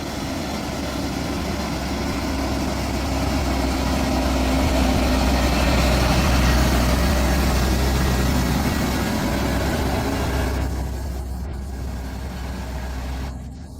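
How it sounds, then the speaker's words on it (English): A Hyundai tractor truck labors up a mountain pass, its heavy diesel engine a steady low, loud drone that swells and then eases slightly, with no talking over it. "A very robust Hyundai tractor pulling its weight."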